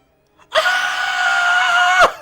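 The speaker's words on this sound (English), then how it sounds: "I scream at the top of my lungs as I'm staring at this 50-foot vine bear" A person screams at the top of their lungs, one sustained, loud, piercing shriek lasting about a second and a half, close and alone, with a faint breath just before.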